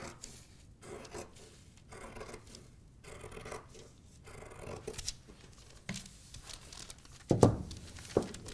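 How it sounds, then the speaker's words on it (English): Scissors snip through a paper sewing pattern in short, quiet bursts, with rustling and rubbing of the paper between cuts and a couple of sharper knocks near the end. "making sure that my cutting is nice and neat"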